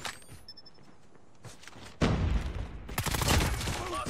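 A grenade blast and gunfire in a first-person video game shooter, with a few scattered shots followed by a sudden loud explosion and a burst of dense, close gunfire.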